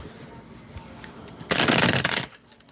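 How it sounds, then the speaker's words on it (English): A single burst of tarot card shuffling, a dense papery riffle lasting under a second, loud and close against a quiet background. "One more shuffle."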